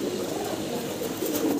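Fancy Mundian pigeons, a white pair, give soft, low cooing in a short, quiet stretch with no voices.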